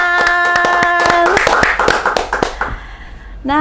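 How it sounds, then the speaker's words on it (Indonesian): Hand clapping in quick, sharp bursts, several claps in a row, loud and close, laid over a short musical jingle that fades out near the end. "Tepuk tangan."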